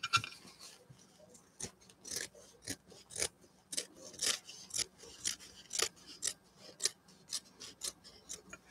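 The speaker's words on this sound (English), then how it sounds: "I'm trimming this down just a little bit shorter." Scissors trim the pages of a handmade paper and lace journal, giving a steady series of crisp, close snips at an even rhythm with no talking.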